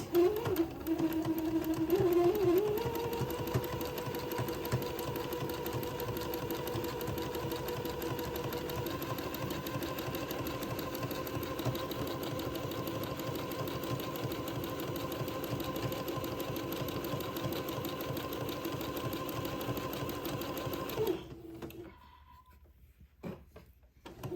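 A sewing machine runs steadily at a fast, even hum while zigzag stitching a folded hemline on a child's daygown, continuing for about twenty seconds before stopping abruptly and leaving near silence.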